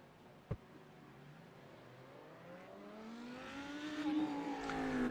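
A Porsche GT3 race car engine in iRacing at Sebring revs and climbs steadily in pitch, growing louder over several seconds with a sharp click near the start; no voices.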